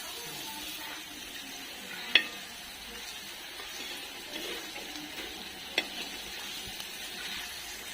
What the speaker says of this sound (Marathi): आता कांदा टाकू आपण थोडासा आणि परतून घ्यायचा कांदा आपल्याला